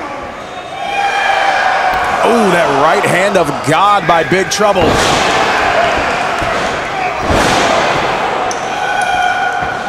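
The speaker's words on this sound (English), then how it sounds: "Crowd here at Momocon coming alive for Ben Bishop" Wrestling crowd at Momocon 2024 cheering and roaring in a large hall around ring slams and thuds, loud and reverberant, with a commentator speaking over the noise throughout.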